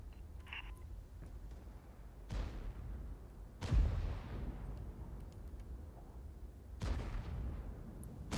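Heavy tank cannon shots in a video game tank battle: three deep, booming blasts spaced a few seconds apart, each trailing into a rumbling decay over a steady low background drone.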